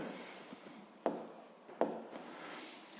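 Pen writing on paper during a physics lesson, soft faint scratching strokes with two sharper taps as the pen touches down, close and quiet, no talk.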